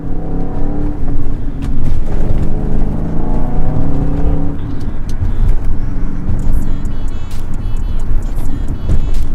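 A car with a muffler delete howls under acceleration, its loud, raspy exhaust note climbing through the revs at close range before settling into a rougher drone, with occasional clicks and ticks.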